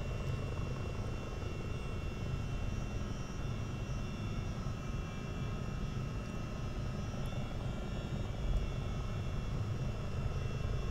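Boeing CH-47D Chinook twin-rotor helicopter hovering and flying low over a base in Microsoft Flight Simulator 2024, giving a steady, dense engine and rotor drone that holds at an even loudness throughout with no talking.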